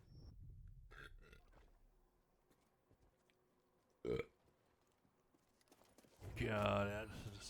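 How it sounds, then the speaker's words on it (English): A loud, drawn-out belch rumbles near the end of the clip, close and prominent, after quieter stretches of talk and a brief sharp noise. "that's a disgusting burp"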